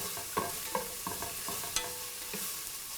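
Onions sautéed with salt until soft for a shrimp theeyal, a soft steady sizzle with clicking stirs at regular intervals, close and fairly quiet.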